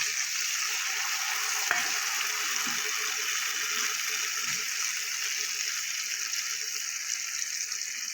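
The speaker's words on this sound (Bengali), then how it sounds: "আলুটা আমার অনেকটাই ভাজা হয়ে গেছে এবার আমি বাটা মশলাটা দিয়ে দেবো" Potatoes frying in oil with a ground spice paste for a masoor dal bora dalna, giving a steady close sizzle throughout with a few soft stirring clinks and scrapes, no talking.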